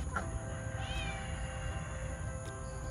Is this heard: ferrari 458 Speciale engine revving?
no